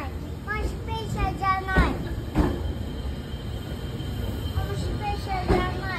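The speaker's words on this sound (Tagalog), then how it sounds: "paparating na po yung ating sasakyan na tren." A Spacia train in Japan rumbles in with steady low mechanical noise, brief squeals and clunks, while people talk nearby under the din.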